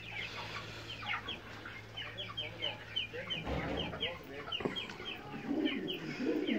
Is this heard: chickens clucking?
yes